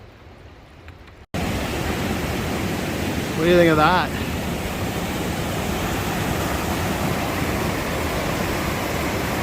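After a brief quiet start, a loud, steady rush of a creek on the Great Divide Trail fills the scene, with a voice briefly speaking over it.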